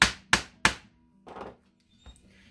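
Hammer strikes a tool into grooves in leather for a leaf-shaped bag: three sharp, close thunks in quick succession, then a softer, scuffing hit and a faint tap, with nobody talking.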